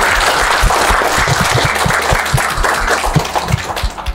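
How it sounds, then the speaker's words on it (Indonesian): An audience at a talk event gives a round of applause, continuous close clapping with scattered louder claps, short and unbroken. "Boleh kasih tepuk tangan untuk Trade Family."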